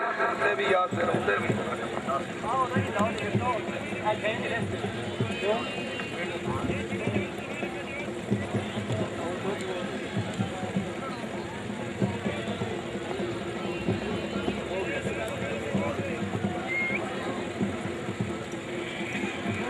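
Horses gallop in a neza bazi tent-pegging race in Gujrat, Pakistan, hooves drumming in a steady rapid patter throughout, under constant loud announcer commentary and crowd noise.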